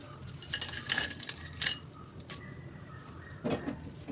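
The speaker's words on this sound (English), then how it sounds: "Now I am going to plate the okra and which sounds like this." Light clinks and crisp rustles as fried okra is scooped and dropped onto a plate, with a few sharper clatters of utensil against dish.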